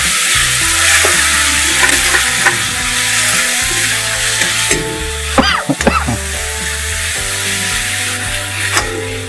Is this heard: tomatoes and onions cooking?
yes